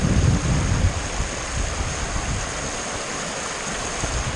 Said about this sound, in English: All of these natural waterfalls together.